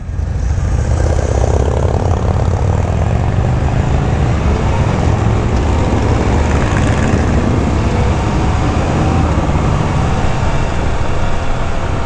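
A Sturgis rally demo touring motorcycle with a backrest and armrests is ridden at speed, its engine drone steady and loud under heavy wind rush, with no clear gear-change breaks standing out.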